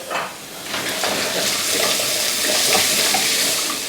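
Onion, garlic, ginger and green chilies fry in a pot over rising heat, giving a steady, close sizzle with stirring scrapes and no voices.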